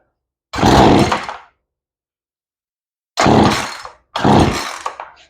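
A chainsaw with a newly replaced carburetor roars briefly to life three times, a loud close burst of about one second, then two shorter revs after a pause, each cutting out abruptly.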